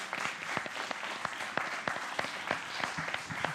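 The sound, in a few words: audience applauding performers at ceremony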